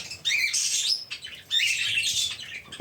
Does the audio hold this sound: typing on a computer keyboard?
no